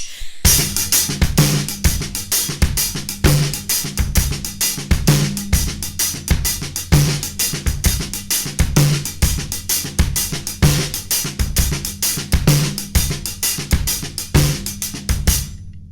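A steady half-time shuffle drum groove with a loping feel, bright cymbal hits over punchy kick and a backbeat snare, repeating evenly throughout.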